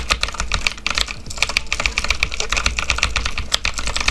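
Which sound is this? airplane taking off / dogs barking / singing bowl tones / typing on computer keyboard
typing on computer keyboard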